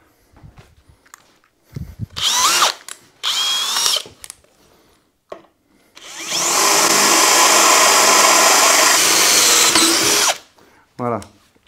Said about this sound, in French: On va venir percer un peu plus gros.